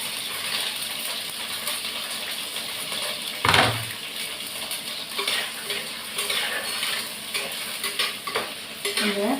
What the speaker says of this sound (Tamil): முதல்ல கத்திரிக்காய் நான் எண்ணெயில் போட்டு வறுத்து எடுத்துக்கிறேன்